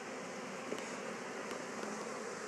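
Swarm of honey bees at a Warre hive, a steady dense buzzing drone, close and continuous for the whole stretch with no voices.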